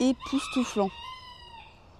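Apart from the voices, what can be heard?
roosters crowing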